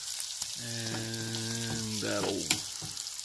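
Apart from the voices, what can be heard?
stirring spinach into noodles in a pan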